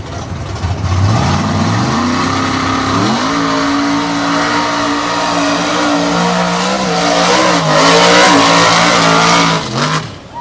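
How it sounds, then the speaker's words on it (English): Chevy drag race car launching at Sanford in a 2021 Fastest of the Fast event: a loud roaring engine climbing through gears in steady stepped rises, sustained for several seconds before lifting off near the end. "Let's watch the Chevy go."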